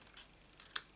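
Scissors snipping coloured card for a papercraft flower jar, a few quick soft snips in one second, the last one sharper and louder, close and quiet.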